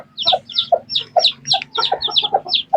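Several chickens and a rooster clucking and calling in a farmyard, with repeated short squawks and clucks coming close together throughout, fairly loud and near, with no talking.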